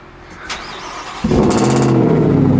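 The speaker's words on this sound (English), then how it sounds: "when you start up the baddest truck on the planet, this is what it's supposed to sound like." Cold start of a Ford Raptor R truck: faint clicks, then a sudden loud engine catch at about a second in, settling into a deep, close, rumbling idle with a brief rev flare.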